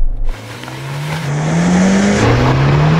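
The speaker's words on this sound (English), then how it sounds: "now I'm going to try the Jimny" Suzuki Jimny engine revving hard while driving off-road, a loud continuous drone that climbs steadily in pitch, drops briefly and climbs again as the little engine strains.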